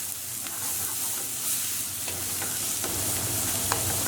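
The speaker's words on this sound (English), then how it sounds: "we just want to fry that until our onions are nice and brown" Onions sizzle and fry steadily in hot oil in a pan while cooking beef tacos, a continuous close crackling hiss with occasional stirring scrapes throughout.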